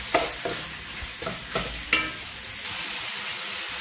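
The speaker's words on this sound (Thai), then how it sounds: "ผัดไปเรื่อยๆนะคะจนหมูของเราสุกค่ะ" Pork loin stir-fried in a pan with a spatula, a sizzling bed broken by five or six quick rhythmic scraping strokes, close and moderately loud.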